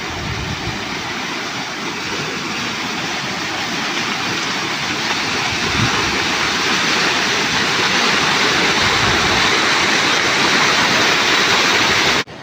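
Heavy rain pours down in a village with water rushing and splashing, a dense, steady roar that stays loud and unbroken before cutting off abruptly at the end.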